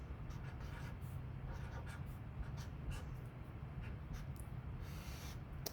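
A pen scratches numbers onto paper in short, faint strokes, close up and quiet, with small pauses between digits over a soft background hiss.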